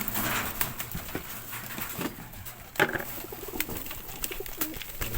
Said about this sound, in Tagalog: Gutom ang mga alagang kalapate.